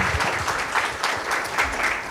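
An audience at a panel discussion claps for the panelists, a short burst of moderately loud, even applause heard without anyone speaking over it.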